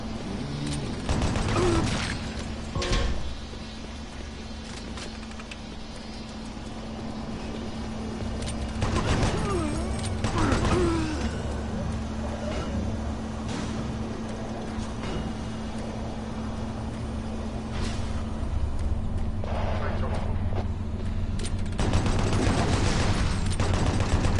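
Gunfire in Doom 3, played as The Lost Mission on PS4: repeated shots and mechanical clanks over a steady machinery hum, loud at times and otherwise sparse.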